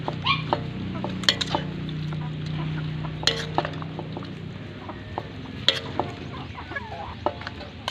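Ginataang puso ng saging, banana heart simmering in coconut milk, being stirred in a pan, with scattered spoon scrapes and clicks over a steady low simmer and faint sizzle.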